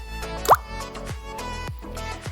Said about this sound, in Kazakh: оның үстіне қоспамызды осылай үлкен қасықпен немесе 2 ас қасық құйып шығамыз